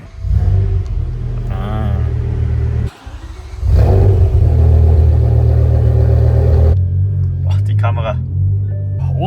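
A BMW M6 with a V10 engine runs loud and close, its deep rumble dipping briefly around the third second before surging back, with voices speaking over it in short bursts.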